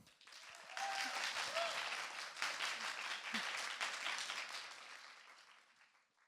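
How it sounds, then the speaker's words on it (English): Audience applause welcoming a speaker at a talk on collaborative and cooperative play, a dense wash of clapping that swells quickly, holds steady for several seconds and then fades out, with a brief voice underneath near the start. "Please applaud Marie LeBlanc Flanagan."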